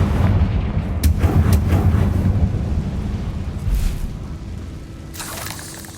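A Bombarda spell blasts a barricade in the Hogwarts Legacy video game, giving a loud booming explosion with crackling debris and a rumbling tail that fades over several seconds.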